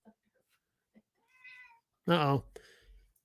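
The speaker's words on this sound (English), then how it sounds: "Hear the cat in the background." A cat meows twice nearby: a softer, thin call followed by a louder, drawn-out meow, with quiet clicks and stillness around them.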